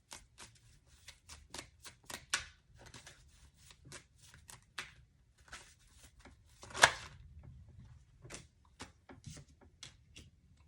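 Tarot cards are shuffled in a long run of crisp, riffling flicks and slaps. The sound is close and fairly quiet, with one louder burst of riffling midway through and no talking.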